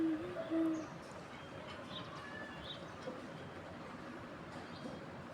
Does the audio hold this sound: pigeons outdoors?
yes